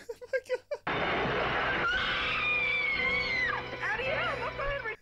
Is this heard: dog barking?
no